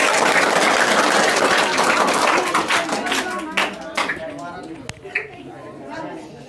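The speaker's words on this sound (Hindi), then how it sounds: "और भैया जोरदार तालियों के साथ स्वागत होना चाहिए।" A crowd at a school Independence Day celebration claps loudly to welcome a performer, then the clapping thins into scattered claps and taps while people chatter nearby.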